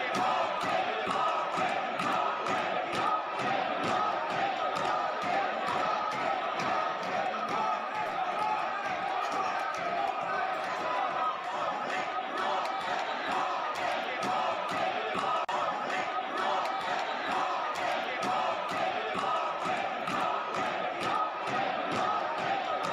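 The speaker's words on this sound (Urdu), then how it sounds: "جو سانسد ہیں تالیاں بجاتے ہوئے گو بیک گو، گو عمران گو کے نعرے لگا رہے ہیں۔" Pakistani lawmakers in the National Assembly clap and chant "Go Imran Go", a dense, steady roar of rhythmic clapping and massed shouting that carries unbroken throughout.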